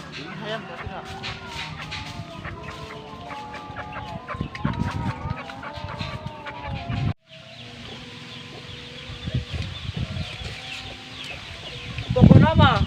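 Chickens cluck steadily and loudly throughout, with a brief break midway and a rough burst near the end, under frequent talk from people nearby.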